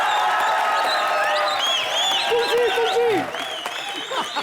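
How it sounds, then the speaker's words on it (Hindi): A dense, steady burst of applause from a large comedy-show studio audience fills the whole stretch, with a few whoops rising over the clapping. "जोरदार तालियां ठोकर रहे।"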